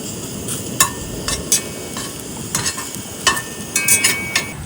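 Hashed potatoes fry in a pan outdoors in a park, a steady low sizzle broken by scattered clinks and scrapes of a utensil moving them around, close and moderately loud with no talking.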